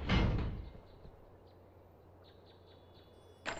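A door unlocks in the Harry Potter and the Sorcerer's Stone PS1 video game after a lever is pulled, giving a loud thudding clunk at the start, then a quiet ambient hum with faint chirps and a short click at the end.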